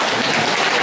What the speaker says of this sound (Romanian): Aplaudați cu toții, dacă merită.